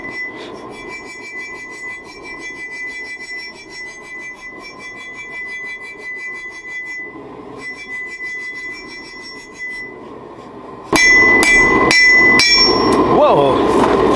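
Hammer blows on steel chisel stock at an anvil during forging: loud, ringing metallic strikes, a steady run early on, then a burst of harder, denser impacts near the end, with no talk.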